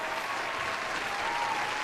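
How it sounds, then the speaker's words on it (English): Steady applause from a large crowd, a dense, even wash of clapping that holds at the same level throughout. "One last round of applause."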